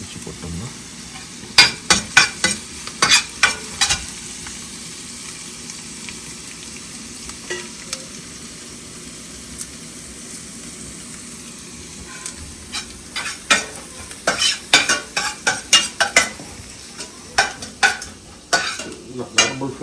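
Curry leaves stir-fry in a pan, a faint background sizzle punctuated by bursts of sharp metallic scraping and clattering from a spatula, busiest near the start and end.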